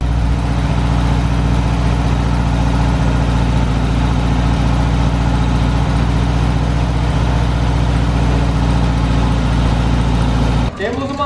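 A refitted Volkswagen Kombi engine idles steadily on a test run, a constant low throbbing drone held for about eleven seconds before cutting off abruptly near the end.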